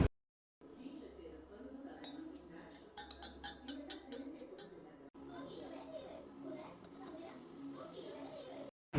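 Two eggs with salt and pepper beaten in a bowl, quick clinking strokes of a utensil against the dish in short rhythmic bursts, close and fairly soft, with talking and children's voices around.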